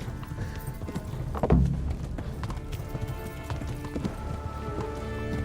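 Horse galloping in the video game Kingdom Come: Deliverance, steady rhythmic hoofbeats with a thump around mid-clip, under game music and ambient sound, with no voices.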